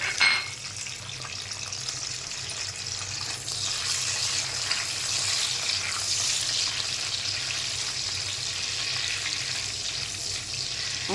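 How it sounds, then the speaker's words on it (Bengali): Cashews, raisins, garam masala, cloves and bay leaf fry in ghee with a little oil for a vegetable khichuri, giving a steady, fairly loud sizzle that runs unbroken for the whole stretch with no talking. "এখন কাজু কিশমিশ, গরম মশলা, লবঙ্গ, তেজপাতা একটু ভেজে নিতে হবে ঘিতে।"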